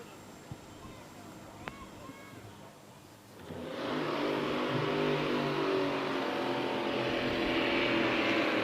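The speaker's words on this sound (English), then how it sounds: "So the engines fire up and the boats start moving towards the milling area for heat number 2" Race boat engines at the E C Griffith Cup start up after a quiet moment, then settle into a steady broad roar as the boats move off, heard from a distance with a voice talking over it.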